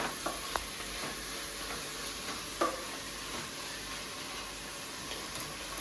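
Food frying in a pan on a stove, a steady faint sizzle under soft hiss with a few light spatula taps and scrapes scattered through.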